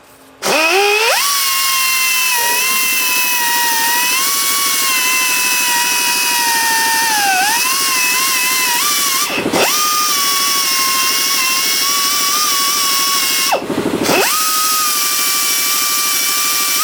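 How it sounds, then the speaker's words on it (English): A power sander runs on a homemade overhead-valve part for a Briggs engine with a loud, steady, high whine. The tool starts up, stays close and constant, and cuts out briefly twice before carrying on. "I'm trying to sand this down to that center line I made."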